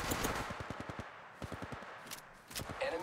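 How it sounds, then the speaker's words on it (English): Rapid gunfire in a video game: a close, steady burst of automatic shots in quick rhythm, pausing briefly, then another burst and a couple of final shots, fairly loud. "Opening fire on the enemy."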